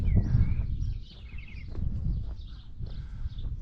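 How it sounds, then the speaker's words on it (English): Birds sing and chirp in repeated short phrases over a steady low rumble of breeze outdoors on a sunny countryside walk near Capdella, with no talk. "More bird song, lovely."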